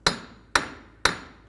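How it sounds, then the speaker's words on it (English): Hammer striking the axle of a 2003-2007 Cadillac CTS to free it from the rear wheel hub: three sharp metallic taps evenly spaced about half a second apart, close and alone. "Just take a hammer, carefully give the axle a couple taps"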